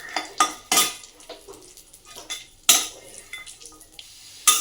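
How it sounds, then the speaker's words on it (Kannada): Cashews and raisins fry in hot ghee in a pan, with sharp metal spoon clinks and scrapes against the pan at irregular intervals over a faint, soft sizzle. "ನೋಡಿ, ಫ್ರೈ ಮಾಡ್ತಾ ಇದ್ದೀನಿ."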